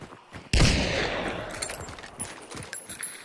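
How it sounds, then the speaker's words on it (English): A sudden loud burst of gunfire from the video game Hunt: Showdown erupts, followed by scattered shots and rattling in the distance. "Gunshots!"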